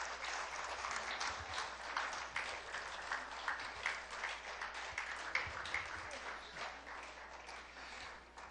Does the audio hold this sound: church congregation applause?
yes